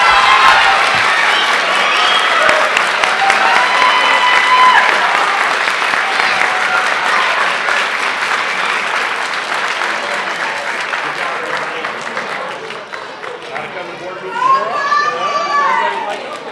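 An audience at a school district board meeting claps loudly for the principals, sustained applause mixed with children's voices and crowd chatter that slowly fades, then a few voices and cheers rise again near the end.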